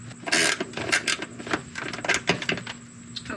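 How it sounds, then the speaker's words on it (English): An 18mm ratchet wrench works loose a rear seat bolt inside a Ford Bronco, giving bursts of close, uneven mechanical clicks and clunks. "this again is just an 18mm ratchet"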